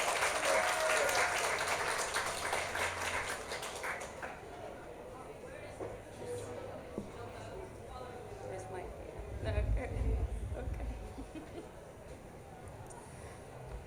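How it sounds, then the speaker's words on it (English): An audience at a Women Deliver 2023 panel session claps in a dense burst of applause for about four seconds, then it fades into softer room noise with distant voices. "let's receive them with a huge round of applause, please"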